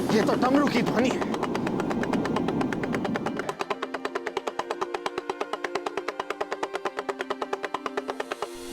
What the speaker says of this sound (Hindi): ये तो डमरू की ध्वनि है।